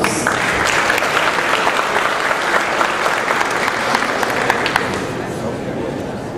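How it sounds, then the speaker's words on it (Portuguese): Audience applause for speaker Alessandra Barreto as she takes the stage at a precision agriculture talk, loud dense clapping from a large crowd that stays full for several seconds before tapering slightly at the end. "Alessandra Julianete Barreto recebe os nossos aplausos."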